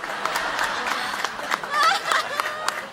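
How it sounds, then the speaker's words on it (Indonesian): A comedy show studio audience claps in a steady patter of applause, with voices and a few chuckles mixed in throughout. "silakan masuk Pak Budi, tepuk tangan. Woi, tepuk tangan."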